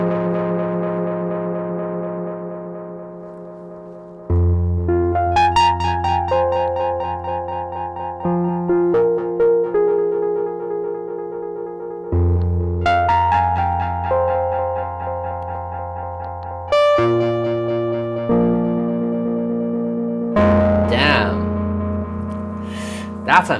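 A Spitfire Audio felt piano layered with a Whirly electric-keys sound, processed through Decapitator saturation and delay, playing slow sustained chords with soft attacks and echoing tails, clear and unaccompanied.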